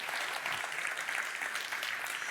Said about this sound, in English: That's the applause moment.